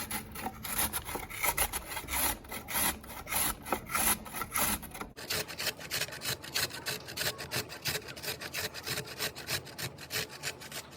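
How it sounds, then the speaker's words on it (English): A carrot is rasped against a kitchen grater in fast, even back-and-forth strokes, close and steady with no talk, for pulled chicken sliders. "Now I'm just going to grate the carrot."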